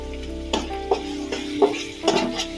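Chicken gizzards cooking with ginger paste are stirred in a pan, giving several distinct scraping strokes over a steady low sizzle, close and fairly loud, with no talking.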